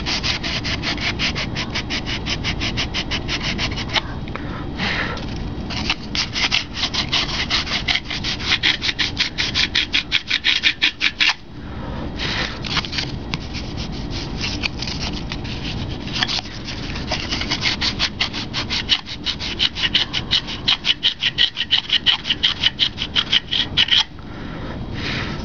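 A balsa glider wing being hand sanded with 80 and 120 grit sandpaper, close rhythmic rubbing strokes in fast continuous runs with brief pauses, loud and alone.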